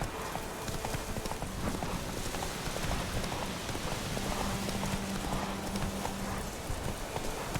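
Roach the horse gallops in The Witcher 3 video game, fast rhythmic clip-clop hoofbeats running continuously under a soft rain-like wash of ambient noise.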